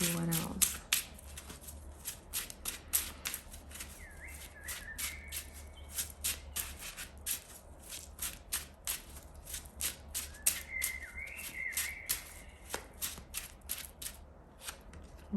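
Gold Foil Tarot cards are shuffled by hand in a long run of quick, crisp riffling slaps and flutters, close and fairly quiet, with faint brief tones in the background.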